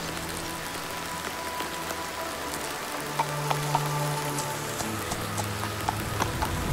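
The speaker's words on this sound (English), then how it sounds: "We must find a shelter from rain and wind." Rain and wind in a dark gamebook adventure, a steady wash of rainfall on surfaces with occasional heavier drops over a low ambient bed, continuous and moderately loud with no talking.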